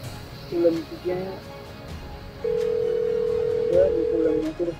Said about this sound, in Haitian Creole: Le problème, mon téléphone a sonné.